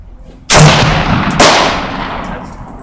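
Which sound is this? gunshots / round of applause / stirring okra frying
gunshots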